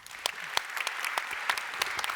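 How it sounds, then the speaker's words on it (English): A conference audience applauds two digital ministers at a fireside chat on Estonia and Ukraine, giving moderate, steady clapping with distinct individual claps standing out, fairly near and heard alone. "please, a warm round of applause for two digital ministers"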